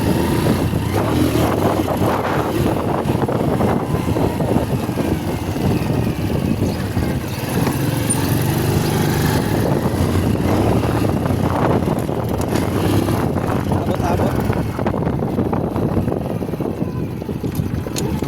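Honda Wave motorcycle engine on a road test, misfiring at high rpm with an uneven, sputtering drone that keeps cutting in and out, mixed with wind rush over the microphone.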